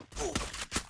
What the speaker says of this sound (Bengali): একটা একটা করে গুলি চালা না